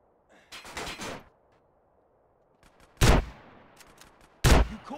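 Grand Theft Auto Definitive Edition gunfire: loud bursts of rapid shots with gaps of near-silence between them, two sharp, heavy blasts standing out later on, and no talking.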